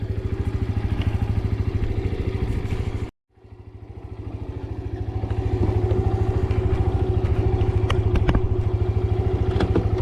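A Can-Am DS 90 youth ATV with a fully automatic transmission, its small engine putting steadily close by, cutting out briefly, then revving back up and droning on as it rides off.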